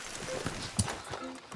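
Horse hooves clip-clopping in Red Dead Redemption 2, a faint, quick run of thuds with one sharper hoof strike at mid-point, set low under soft game ambience.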